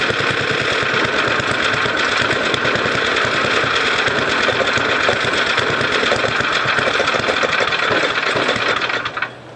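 A go-kart engine with a freshly cleaned carburetor runs loud and steady with a rapid knocking putter close by, then abruptly dies out at the very end.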